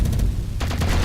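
Turrets in a video game fire sustained, dense bursts of automatic gunfire, loud and close, with a brief lull before the shooting picks up again.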